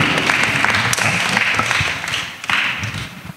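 A church gathering audience claps loudly and continuously for about three seconds, with a brief dip in the applause near the end before it surges again.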